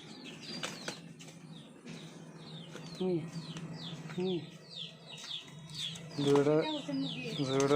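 Chickens cluck and chirp in short bursts around a barnyard, with wings flapping now and then and people talking nearby.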